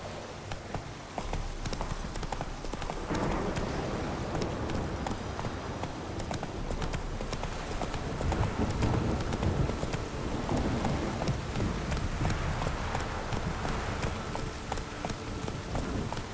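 A horse gallops in The Witcher 3, with steady, rapid hoofbeats that continue without a break, close and prominent against a wash of ambient game noise and faint talk.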